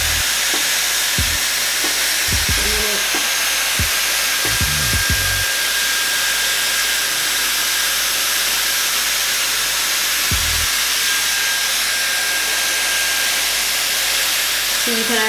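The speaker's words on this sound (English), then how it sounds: "And that's the sound it makes." Dyson Airwrap hair styler running on medium heat and medium setting, giving a steady, close airy whoosh through the whole stretch, broken by a few brief low bumps and handling knocks.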